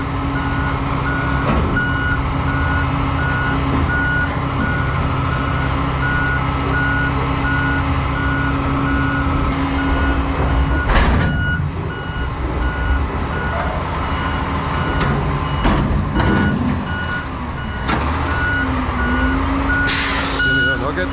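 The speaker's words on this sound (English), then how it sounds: "These roll-off trucks are really cool." A roll-off truck loads a dumpster, its reversing alarm beeping in a steady repeating pattern over a loud, continuous engine and hydraulic drone, with clanks and someone talking intermittently.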